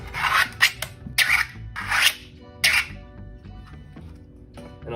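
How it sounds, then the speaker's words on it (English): A magazine rubs and scrapes as it is pushed into a freshly 3D-printed Zinc 2.0 frame whose print is not yet broken in, giving four or five close, raspy strokes with faint squeaks between them. "a lot of that rubbing sound is the print's not being broken in"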